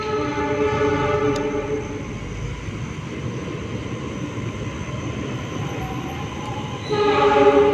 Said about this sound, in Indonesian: ada kereta melintas.